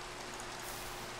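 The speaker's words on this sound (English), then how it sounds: "How is that Enderman chilling in the rain right now, by the way?" Steady, even rain hiss from a Minecraft game world, a soft continuous wash with no talk over it.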